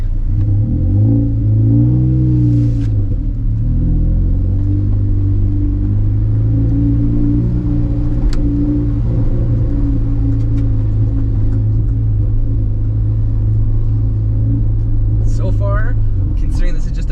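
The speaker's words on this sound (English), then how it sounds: "This is the first time taking the car for a serious drive on the Link ECU with my new wiring harness, the throttle body, all of it." A car running a Link ECU with a new wiring harness and throttle body on a test drive, its engine droning loudly and steadily from inside the cabin with rising and falling revs, while someone talks over it.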